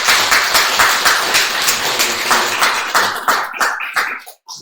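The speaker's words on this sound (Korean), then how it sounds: "우리 큰 박수로 환영하겠습니다" A church congregation claps in welcome during a Sunday service, a dense burst of many hands at close range that thins toward the end and cuts off, with no talk over it.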